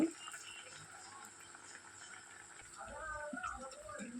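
Lentil vadas frying in hot oil give a faint, steady bubbling hiss that runs throughout, with a soft voice-like murmur in the background toward the end.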